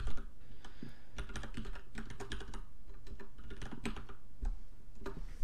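Code being typed on a computer keyboard for an LED sketch, a dense, close run of rapid key clicks and thumps that carries on steadily throughout with no speech over it.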